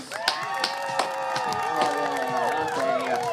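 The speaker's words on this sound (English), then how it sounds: "Give them another round of applause" An audience claps and cheers for models returning to the stage at a 1960s fashion show, with a few sharp claps standing out over a busy crowd and a continuous tonal, musical wash.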